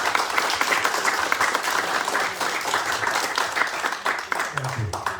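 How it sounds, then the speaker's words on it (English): Audience applause at a bookstore event for hometown novel writers, steady close clapping from a modest crowd with brief voices near the end. "let's give a round of applause for these boys"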